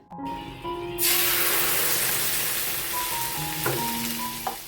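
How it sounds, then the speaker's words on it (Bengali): Yogurt tempered with mustard seeds and curry leaves, starting quietly, then a loud, steady oil sizzle with faint clinks and tonal hums, close and alone. "ওটাকে একটু তড়কা লাগিয়ে দেবো, একটু সর্ষে ফোড়ন আর একটু কারি পাতা দিয়ে।"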